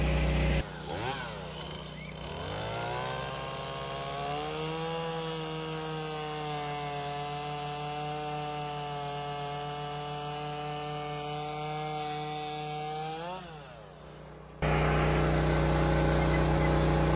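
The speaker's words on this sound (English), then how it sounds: "MS 170, it's a nice little saw. You might need a sharper chain though." A Stihl MS 170 chainsaw cuts through a nine-foot Christmas tree, its engine revving high and steady for about fourteen seconds at close range before cutting off abruptly, with no talk over it.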